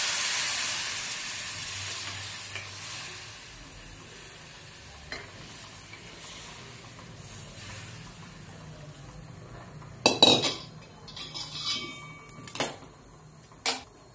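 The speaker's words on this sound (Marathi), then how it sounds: "त्यामध्ये आपण गरम पाणी टाकूया." Hot water poured into a pan of sautéed drumstick (moringa) curry: after a long, faint kitchen hiss, a loud sizzling rush erupts, then bubbling, steaming spurts continue in short bursts.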